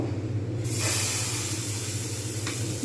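Batter for patishapta pitha poured into a lightly oiled frying pan over low heat, giving a sudden steady hiss that sizzles on without a break.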